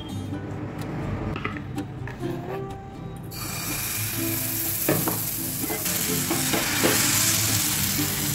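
A patisapta crepe frying in hot refined oil: a steady crackling sizzle close by, broken by spatula scrapes and taps, with the sizzle getting brighter and louder partway through.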